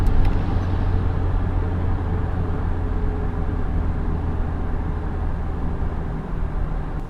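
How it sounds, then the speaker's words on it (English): GWM P-Series (Cannon/Poer) pickup truck accelerating hard off the line, a steady loud engine and road roar heard from inside the cab, continuous for several seconds with no talking. "Off the line, it's got pretty good acceleration"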